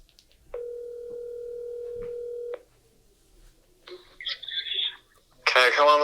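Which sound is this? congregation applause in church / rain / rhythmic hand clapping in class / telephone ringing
telephone ringing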